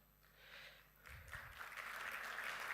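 Audience applause at a company town hall, starting as scattered claps and swelling into steady, broad clapping from a large crowd that fills the room.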